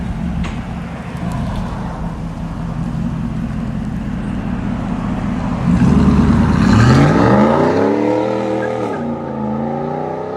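A RAM 1500 pickup with a 5.7L HEMI V8 and Borla ATAK exhaust with black rolled 4-inch dual tips idles with a deep rumble, then revs up loud and close before the note falls back.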